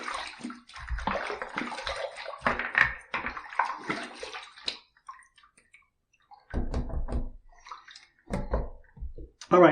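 Running water splashing and sloshing as a Rockwell T2 adjustable safety razor is rinsed under a tap, in two bursts separated by a quiet pause, close and fairly faint.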